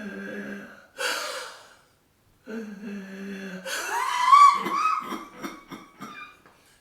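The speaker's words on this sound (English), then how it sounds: "we can increase this by doing the belly breathing with cry breathing" Intense, voiced crying-style breaths from a person doing belly breathing during a Reichian upper spine release exercise, with sobbing, gasping inhalations and strained exhalations. The breathing comes in close, uneven bursts with short pauses between them.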